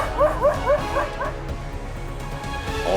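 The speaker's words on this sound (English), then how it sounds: "This is the bravest dog I've ever seen, barking at a leopard so much that it made the leopard turn and leave." A dog barks repeatedly at a leopard, sharp yipping barks in a quick burst at the start, then a pause over low rumbling background, and another bark near the end, close and loud.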